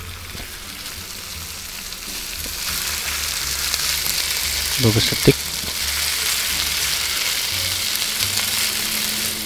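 Potatoes deep frying in the Cooking Simulator video game give a steady, moderately loud sizzle throughout, with a brief burst of clatter near the middle and someone speaking briefly over it.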